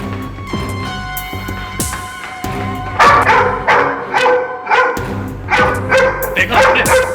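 A dog barks and yelps repeatedly, loud and close, with whimpering tones between the barks in a tense scene from a crime drama; voices can be heard faintly underneath.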